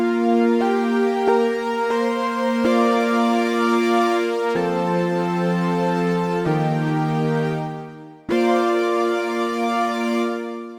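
Logic Pro Retro Synth Lush Pad preset playing a sequence of sustained major chords, warm and rich, each chord changing every second or two with a brief gap near the end, with no talk.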